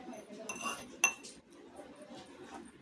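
A metal spoon clinks against a large container while three spoonfuls of sugar are added, giving a few light scrapes and one bright ringing clink, fairly close and quiet, with soft voice in the background.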